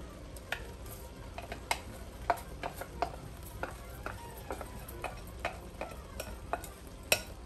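Washed basmati rice is stirred in a pot for dirty rice, a quiet run of irregular spoon knocks and scrapes against the metal over a faint sizzling hiss, with no talking.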